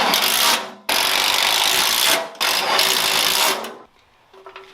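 Self-tapping screws being power-driven into a metal bracket on a Cub Cadet racing mower: two loud sustained whirring bursts with a short pause between, then the tool stops and a quieter, sparse tail remains.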